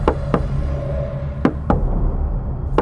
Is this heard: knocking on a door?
yes